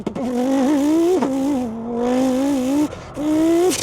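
A single voice mimics an inline-five Audi S1 Sport Quattro rally engine by mouth, producing a loud, close buzzing drone that rises and falls in pitch through a few gear-change-like steps, cut off by a short break before resuming.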